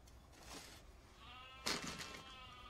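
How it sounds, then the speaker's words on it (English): A sheep bleats faintly once in the distance, a short wavering cry heard quietly over soft background hiss. "Sean, could you please get someone to fix that sheep? Because it irritates the hell out of me"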